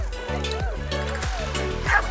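Dogs give several short barks and yips in quick succession, with a whimpering whine between them and a voice speaking over them.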